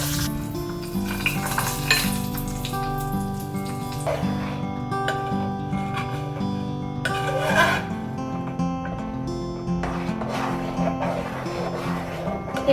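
Ingredients fry in a pan for payesh, a Bengali rice pudding, with a steady close sizzle broken by scraping and stirring clatter from a spoon against the pan.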